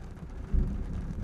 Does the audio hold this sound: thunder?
yes